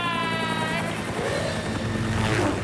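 A cartoon helicopter whirs loudly and steadily, with a buzzing rotor drone and a tonal whine that fades early, under a busy animated scene.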